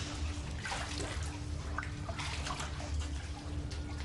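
Water of an underground river flowing through dark cave passages, a steady broadband rush with scattered splashes and drips, continuous and fairly close, with no voices.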